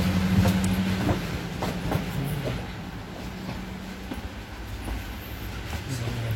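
Matarmaja economy train running on rails, a steady low rumble with rhythmic wheel clatter and a humming tone, heard from inside the carriage without talk.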